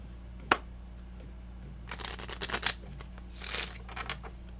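Oracle cards being shuffled by hand: a sharp tap, then two bursts of quick riffling and flicking, soft and close over a steady low hum.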